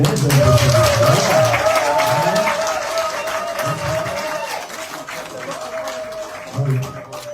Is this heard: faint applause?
yes